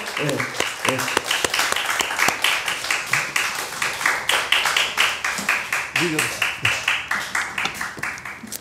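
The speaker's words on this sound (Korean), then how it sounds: "그러니까 오늘 이 시간 오실 때 우리 박수로 환영하겠습니다" A church congregation claps together to welcome a pastor at a Sunday service, a rhythmic, steady round of applause from many hands, with voices calling out over it.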